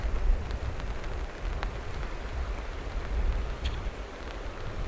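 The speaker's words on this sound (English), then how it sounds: "It's been raining for a little bit now." Rain drums steadily on a tarp during a lakeside storm in the Temagami wilderness, a dense, even hiss with low rumbling wind underneath and occasional louder drops, continuous and fairly close.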